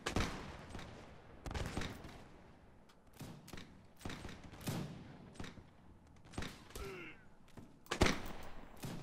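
Musket volleys in a Mount&Blade battle, Napoleonic-era muskets cracking in scattered, irregular shots, some near and sharp, others distant and muffled, with quiet gaps between.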